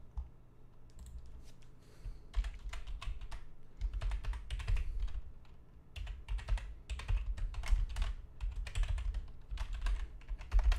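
Close, quick typing on a computer keyboard, keys clacking in irregular bursts with brief pauses between runs.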